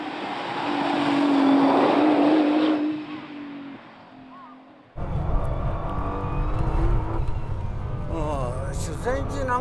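Nissan GT-R Egoist driving, its engine a steady loud drone that rises and then eases off, followed by a rougher, lower road rumble. Someone talks throughout over the engine.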